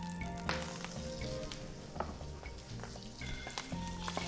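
Sausage meat taken out of its casing sautés in a teaspoon of oil, a steady busy sizzle with scattered crackles and pops running close and continuous under a low kitchen hum.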